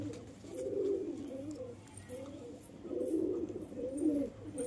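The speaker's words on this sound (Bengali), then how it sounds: "অসাধারণ কবুতর, নর কবুতর" A male racing pigeon coos in low, throaty rolling phrases, three bouts spaced a second or so apart, close and clear over a faint background hum.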